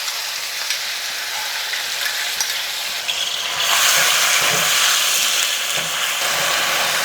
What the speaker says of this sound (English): now we're going to add the onions in and we're going to fry them until they're golden brown in colour